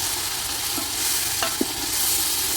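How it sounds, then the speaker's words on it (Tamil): Onions and tomato being stirred in a frying pan, a steady broad sizzle with a few soft scraping knocks of the spoon, fairly loud and close, no voices. "ஓகே வெங்காயம் போட்டு கிண்ட போகிறோம்"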